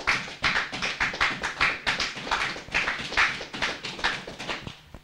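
A church congregation applauds for the glory of Jesus, a dense, steady patter of many hands clapping in a rolling rhythm.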